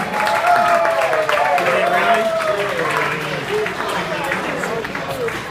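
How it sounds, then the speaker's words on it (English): A wedding crowd claps and cheers steadily at a loud level, with voices calling out and mingling through the applause. "Let's give them a round of applause."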